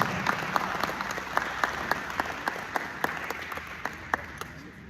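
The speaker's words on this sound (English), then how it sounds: "Shall we give him a round of applause?" Audience applause for Faisal, a Dagomba chief from Ghana, at a live event: a steady wash of crowd clapping with sharper individual claps standing out, sustained evenly throughout.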